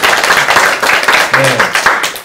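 Scattered audience clapping at a Green Party candidate debate, a brief loose patter of hands close by, with a short spoken acknowledgement partway through.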